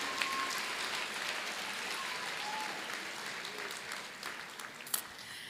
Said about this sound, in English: You can cheer.